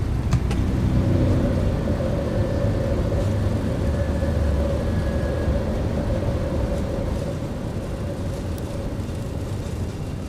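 Simulated MD-11F jet engines at climb thrust in X-Plane, a steady, loud, broadband roar with a faint tonal whine, holding evenly and easing slightly toward the end, with no talk.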